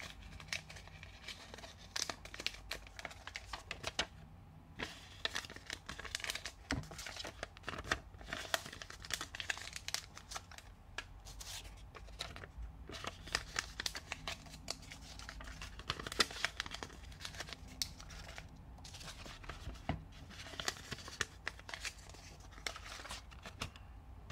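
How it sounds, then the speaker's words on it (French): Folded paper sticky notes crinkle and rustle as they are dropped and stirred into a salad bowl, a steady close-up papery crackle with soft scattered taps lasting throughout, no talking. "je vais mettre tous ces post-it pliés dans une urne ou un saladier"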